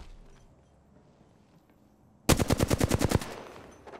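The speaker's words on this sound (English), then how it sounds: "I always get shot at first." Rapid automatic gunfire from Apex Legends, a burst of about a dozen sharp, evenly spaced shots that rings out loud and close after quiet background ambience.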